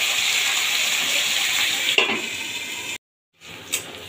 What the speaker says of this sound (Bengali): দেখুন কি সুন্দরভাবে পেঁয়াজ আলু লাল লাল করে ভেজে নিয়েছি